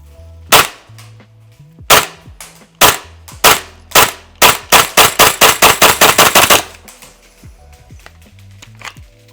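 A Tokyo Marui M4A1 MWS airsoft replica fires full-auto bursts: a few single pops, then a fast rapid string of sharp mechanical cracks, loud and close, ending in quiet clicks.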